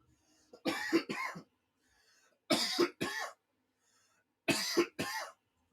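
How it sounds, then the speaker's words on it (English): Three pairs of sharp, close coughs, each double burst separated by brief silences, with no talking. "cough."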